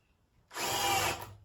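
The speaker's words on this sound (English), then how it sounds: "Drill little pilot holes to start the screws here." A power drill bores a pilot hole for screws, one short steady whirring burst of about half a second, close and clear in a quiet room.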